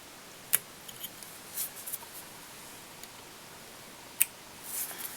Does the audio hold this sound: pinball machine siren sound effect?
no